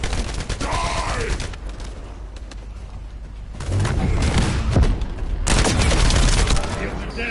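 Precision bomb blasts and rapid gunfire in the video game The First Descendant: dense, loud bursts of shooting and booming explosions, easing briefly in the middle before a heavy second barrage.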